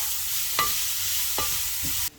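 Leeks and bacon lardons sizzle steadily in a frying pan, a continuous hiss with a few soft stirring scrapes, close and alone before cutting off abruptly.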